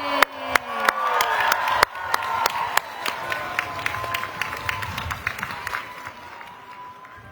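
A crowd applauds Buddhist monks arriving on a peace walk, with sharp individual claps standing out over a rolling wash of clapping and a long tonal drone, gradually thinning toward the end.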